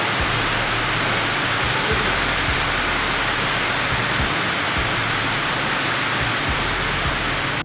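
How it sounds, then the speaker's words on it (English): Heavy rain roars in a dense, unbroken wash, loud and close, with occasional low thumps from a motorcycle ride at a roadside petrol station shelter; no one speaks. "The rain is too much."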